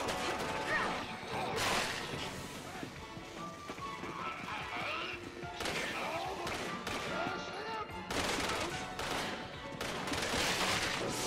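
Gunfire and headshots during an ambush in Resident Evil 6, Ada's campaign: scattered sharp shots and impact crashes throughout, mixed with busy game action sounds and some speech.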